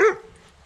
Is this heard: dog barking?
yes